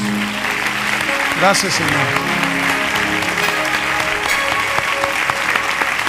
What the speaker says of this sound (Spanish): Denle un aplauso fuerte a Dios.